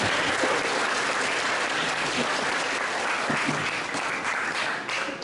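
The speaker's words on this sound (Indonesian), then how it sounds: "Tepuk tangan dulu untuk kita semua." A school audience claps throughout at a morning class presentation, dense and steady at close range, fading slightly at the end.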